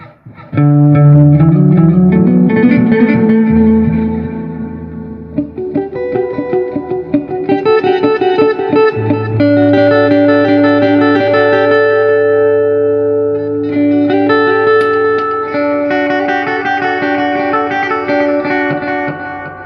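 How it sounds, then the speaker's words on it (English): An electric guitar rings out loud through a Positive Grid Spark 40 amp with delay and reverb, sustained chords and notes trailing into echoing repeats and a wash of reverb, with no talking. "We can put our delay all the way up. So delays here. We got reverb."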